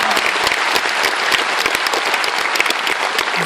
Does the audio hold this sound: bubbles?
no